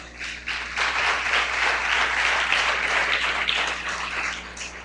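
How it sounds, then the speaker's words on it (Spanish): Church congregation applauding during a Spanish-language worship service, a sustained burst of many hands clapping together at steady loudness for several seconds. "dale un aplauso al Señor."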